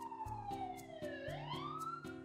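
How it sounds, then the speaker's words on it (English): An ambulance siren wails with a sweeping pitch that dips and rises, faint and distant, over a steady rhythmic pulsing underneath. "there's an ambulance."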